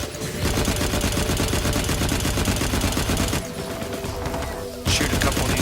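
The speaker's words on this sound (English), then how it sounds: "Shoot a couple of these bugs for these guys while I'm running by." Rapid, sustained gunfire from shooting bugs in the video game Firefall, a dense continuous barrage of loud shots that briefly drops away near the end and then resumes.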